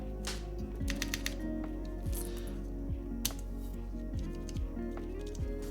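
Plastic keyboard keycaps, including an EPBT set from a Razer Deathstalker Ultimate, clatter and click as they are handled close up, scattered light taps and rattles over a low background hum.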